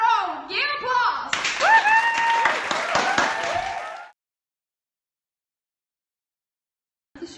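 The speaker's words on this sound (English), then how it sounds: "Give applause!" Studio audience claps and cheers for a few seconds at a talk show, the applause mixed with voices and whoops, then cutting off abruptly into silence.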